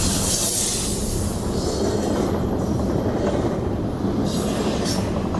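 Near at hand, a freight train with a DPU locomotive rolls past at Mortons Gap, Kentucky, its wheels rumbling and clattering steadily on the rails with faint squeals over the top.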